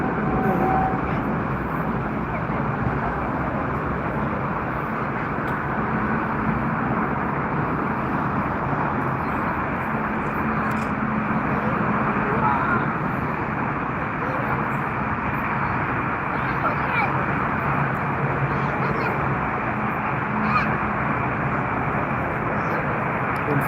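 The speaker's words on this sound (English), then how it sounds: "Emirates 777 to Dubai took off." Emirates Boeing 777 taking off from Frankfurt Airport, a steady, broad jet engine roar that holds at constant loudness throughout, with faint voices underneath.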